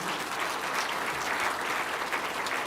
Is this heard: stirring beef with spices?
no